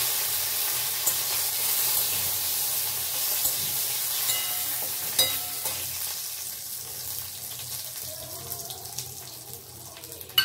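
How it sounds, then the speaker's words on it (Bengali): Cumin, dried chili and bay leaf sizzling in hot oil, a steady loud hiss with faint crackles and a few spatters, close up and continuous. "আর এই যে সামান্য জিরে, সাদা জিরে, এই দিচ্ছি শুকনো লঙ্কা, আর দিলাম তেজপাতা।"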